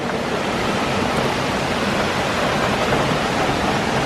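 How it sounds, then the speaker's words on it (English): Heavy rain pours outside in a dense, steady, broadband hiss that stays loud and unbroken throughout, with no voices. "Too much rain out there."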